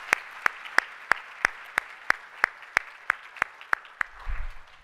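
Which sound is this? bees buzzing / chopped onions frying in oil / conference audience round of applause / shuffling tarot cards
conference audience round of applause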